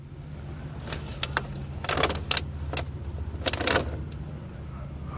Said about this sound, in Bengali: এখন যাচ্ছি on the way by car.